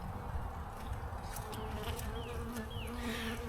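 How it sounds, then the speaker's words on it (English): Honeybees buzzing at an opened hive during a frame inspection, a dense steady hum close by with individual bees droning past now and then, no talking. "The bees seem pretty calm"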